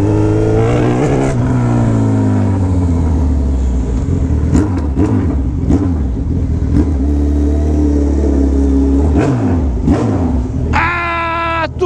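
A Suzuki B-King motorcycle engine revs hard and loud up close, rising and falling through repeated throttle blips with a rough idle between them and a sharp final burst. No one speaks over it.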